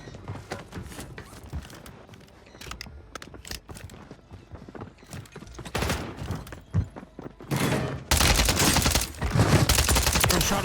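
Gunfire in Warzone 3 (Modern Warfare 3) with scattered shots and bursts, growing denser and louder toward the end into sustained heavy firing.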